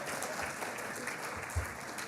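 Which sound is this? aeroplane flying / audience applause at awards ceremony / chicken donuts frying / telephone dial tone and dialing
audience applause at awards ceremony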